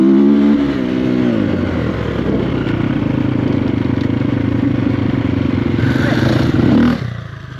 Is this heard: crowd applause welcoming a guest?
no